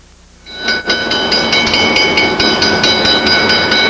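A train running along railway track in Canada, a loud steady rumble with rhythmic clickety-clack pulses and bright metallic tones that swell in a few seconds and stay heavy to the end, with no talk.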